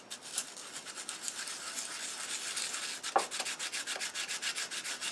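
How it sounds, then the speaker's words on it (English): Sandpaper of 110 to 120 grit rubbed over a wood turning coated with wet CA glue, a steady rhythmic scratchy rasping that swells and fades with each stroke, close by with no talk. "get some 110 or 120 sandpaper while it's still kind of wet, and just kind of smooth the surface a little bit."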